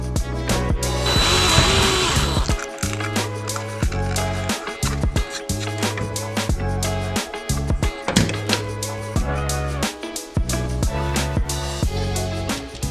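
A power drill bores into a 3D printed plastic battery box, running in repeated bursts with brief pauses and stops, loud and close throughout with a buzzing, whirring tone.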